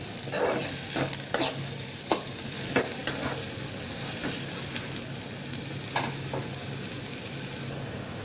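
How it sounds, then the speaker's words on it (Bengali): Onions fry in a little oil in a pan, sizzling continuously while a utensil scrapes and stirs them in irregular knocks, close and steady with no talk. "পেঁয়াজটা একটু হালকা ভাজা ভাজা করে নিব।"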